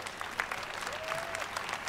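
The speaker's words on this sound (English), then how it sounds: "Let's give them all a round of applause." A large crowd at the EA E3 2018 press conference gives sustained applause, dense and continuous, with a faint whoop rising briefly above the clapping.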